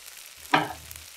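A brief scrape and stir of ginger chicken in a hot pan, with a soft sizzle underneath; quiet and close, no voices.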